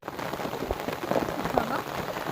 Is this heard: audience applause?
no